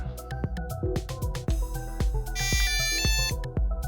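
A DumboRC DDF350 ten-channel radio transmitter with an LCD screen plays its startup jingle, a bright electronic melody of quick, rhythmic synthesized notes, loud and close with no talking.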